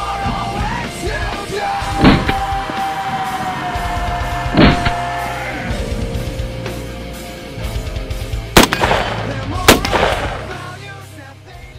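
Gunfire on an outdoor shooting range in Orlando, with sharp, loud shot bursts near 2, 4.7, 8.6 and 9.8 seconds over a steady background hum.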